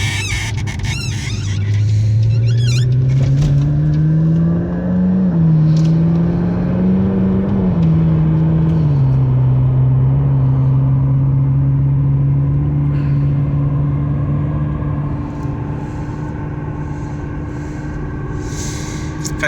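A repairable salvage 2015 McLaren 650S cruising at highway speed, with a loud steady engine drone that rises and settles slightly over a constant rush of road and wind noise, no voices.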